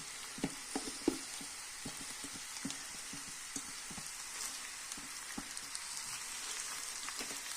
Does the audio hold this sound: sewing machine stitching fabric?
no